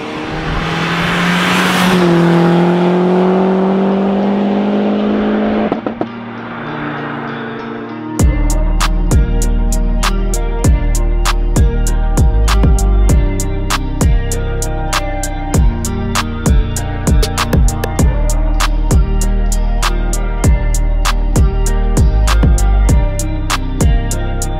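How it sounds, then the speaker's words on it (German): A Volkswagen Polo 86 G40 with a turbo conversion starts up and runs, giving a loud, steady engine note with sharp repeated revs and pops. The engine sound stands alone, close and continuous, with no talk. "bin heute mit meinem 1er Polo da"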